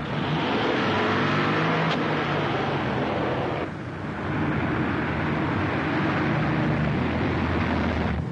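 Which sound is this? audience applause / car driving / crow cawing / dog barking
car driving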